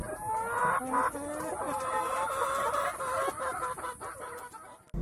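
Laying hens of commercial egg breeds such as Hisex, Lohmann and Highline Brown clucking together in a flock, a steady chorus of overlapping clucks and calls with a constant high hum from the farm behind.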